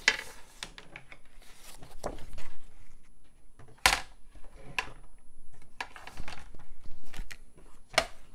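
A paper trimmer scores a strip of cardstock 6 by 9¾ inches, producing soft scraping strokes punctuated by several sharp clicks and thunks as the blade and card are repositioned at close range.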